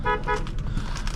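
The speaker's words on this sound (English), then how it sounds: "and a horn test" A 2001 Dodge Intrepid car horn gives two quick short toots right at the start, followed by faint road and cabin noise.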